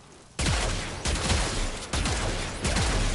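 Arcoplasmor pistol in Warframe firing four heavy, booming blasts at a steady rhythm, each with a broad crackling burst and a low thump, close and loud.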